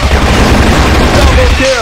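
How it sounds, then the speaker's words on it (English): A flash grenade detonates in the PUBG battle royale game, a loud dense boom that fills the short moment with rumbling noise and faint ringing tones at the end. "Flash grenade."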